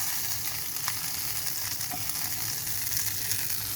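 Anchovies frying in oil in a pan, turned over to cook the other side, produce a continuous close sizzle with a couple of faint clicks, no talking.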